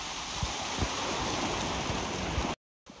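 A roadside waterfall on the route from Neelkanth pours in a steady, dense broadband rush, close and continuous, then cuts out briefly near the end.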